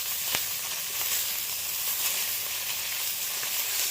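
Fish frying in hot oil in a wok, a dense steady sizzle held close and loud, with a few sharp crackles and pops breaking through.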